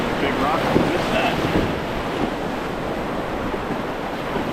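Rushing whitewater on the Nantahala River heard from a paddling boat, a loud, steady roar of splashing rapids mixed with wind buffeting the microphone and no break in the sound.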